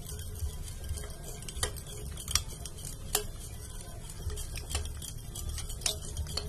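A spoon stirs two spoons of flour into cooled milk in a bowl for carrot payesh, making soft, irregular clinks and scrapes against the container at close range, with no talking.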